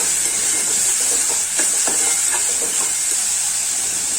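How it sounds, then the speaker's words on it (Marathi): Finely chopped onion frying in hot oil produces a loud, constant hissing sizzle, with faint stirring scrapes through the middle. "आता त्या तेलामध्ये बारीक चिरलेला कांदा टाकते कांदा लाल होईपर्यंत परतून घेते"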